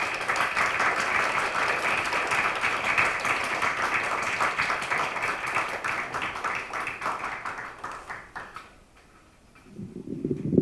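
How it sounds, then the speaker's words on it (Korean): Audience at a Christian memorial worship service for the Itaewon tragedy applauds steadily for about eight seconds, the clapping then fading out before a low voice or tone begins near the end. "격려와 위로 박수 한번 부탁드리겠습니다."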